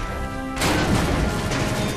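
A sudden loud burst of enemy weapon fire in the PS4 game Knack erupts over a faint electronic hum and keeps roaring for over a second.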